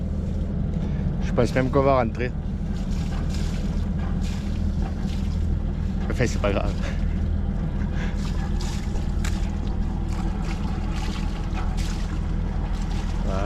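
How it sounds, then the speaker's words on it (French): A boat motor hums steadily on a lake, a constant low drone running throughout, while people talk briefly over it near the start. "On va faire un peu du moteur."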